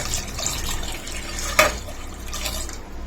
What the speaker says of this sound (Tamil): உங்களுக்கு தேவையான அளவுக்கு தண்ணி ஊற்றிக்கிங்க.